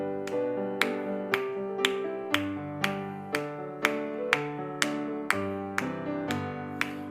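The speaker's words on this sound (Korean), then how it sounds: "또 함께 찬송가 365장 우리 박수하면서 찬송하겠습니다." A church congregation claps steadily along to a hymn at an early-morning prayer service, sharp regular claps landing on each beat over sustained keyboard chords for several seconds.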